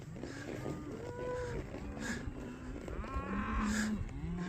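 Cows moo as the herd is moved across a county road, with several low, drawn-out calls overlapping one another at moderate distance over steady outdoor background noise.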